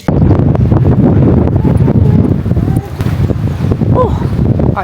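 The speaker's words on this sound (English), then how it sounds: "I'm back now for a very, very windy walk." Wind gusting hard across a microphone on a coastal walk, a loud rumbling roar that holds steady and then eases slightly, with faint voices underneath.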